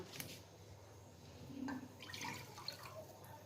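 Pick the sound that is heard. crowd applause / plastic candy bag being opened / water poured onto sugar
water poured onto sugar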